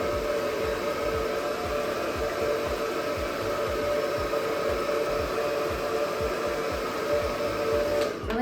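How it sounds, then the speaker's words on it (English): A compact blow dryer on its low setting dries styling product into hair, giving a steady close whooshing hum that holds for about eight seconds and then cuts off, with no talking. "We're gonna blow with our blow dryer."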